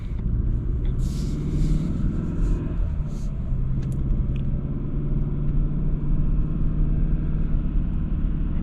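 A 2022 Hyundai Santa Cruz pickup drives along, giving a steady low engine and road rumble heard from inside the cabin, with a few faint clicks and rustles over the constant drone.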